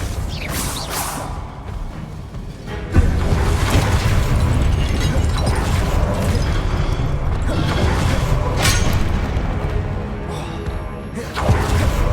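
A Confringo explosive spell goes off in the video game Hogwarts Legacy, a loud booming blast with a whooshing rush that holds for several seconds, then settles into a steady rumbling roar.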